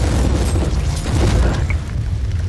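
A grenade blast in the Warhammer 40,000: Inquisitor game lands as a dense, loud boom with a heavy low-end rumble that rolls on for the whole stretch, dipping slightly near the end.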